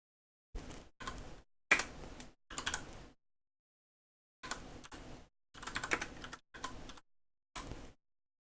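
Quick bursts of typing on a computer keyboard, clustered in short groups of keystrokes separated by brief pauses, close and fairly quiet in an otherwise silent room.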